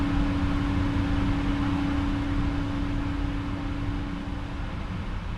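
PMDG 777-F freighter jet engines in Microsoft Flight Simulator, heard as a steady cockpit whine and broadband roar with a sustained low tone, easing slightly in level toward the end.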